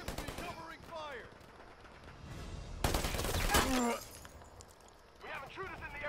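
Bursts of covering gunfire in the video game Predator Hunting Grounds, a dense volley in the middle of the clip, mixed with game voices and effects before and after.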